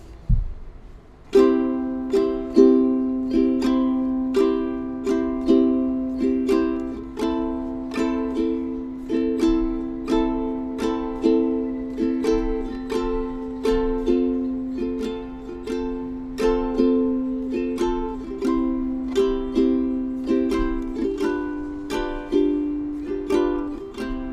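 Steady rhythmic strumming of ukulele chords, bright and close, with a repeating down-up pattern and no voice.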